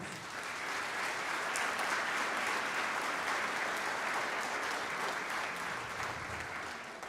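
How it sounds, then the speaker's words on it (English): Steady, dense applause from a concert audience at a school band concert, a full wash of many hands clapping that holds at an even level for about seven seconds before easing slightly at the end, with no talking over it. "So can we give a round of applause for all of our auditionees and performers?"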